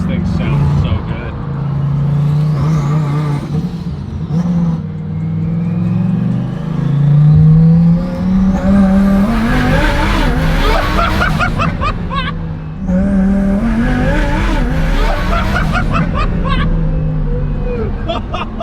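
A boosted car revving hard with rolling anti-lag, loud engine roar rising and falling in long pulls with crackling pops, close by, with voices chattering over it.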